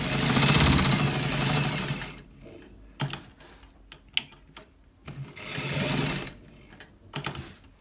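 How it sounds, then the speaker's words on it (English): A sewing machine stitches a shawl collar, running in steady loud whirring bursts broken by pauses with small clicks and taps as the fabric is repositioned. "So as I'm stitching, you just watch it carefully so that you're able to see exactly how I am stitching"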